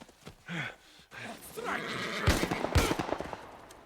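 A horse neighs and whinnies in the video game The Last of Us, a loud, close call over shuffling game sounds and a couple of sharp thuds.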